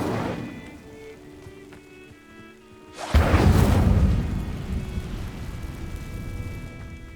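Incendio fire spell cast in Hogwarts Legacy, a sudden loud whooshing burst of flame that erupts midway, roars for about a second, then trails off into a sustained rumbling crackle over quiet ambience.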